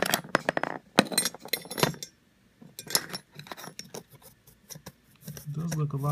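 Metal parts of SilencerCo Sparrow and Spectre 2 suppressors lifted out of an ultrasonic cleaner: close, scattered clinks and jangles in irregular bursts, with someone talking briefly near the end.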